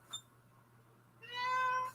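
A cat lets out one loud, drawn-out meow close to the microphone after a brief soft chirp, against a quiet room with a low steady hum.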